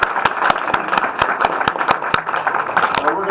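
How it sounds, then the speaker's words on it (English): Audience applause at a candidate forum in the Monticello Library, a loud burst of rapid, fairly regular hand claps close by lasting a few seconds. "For those in the crowd, give them a round of applause for showing up and participating."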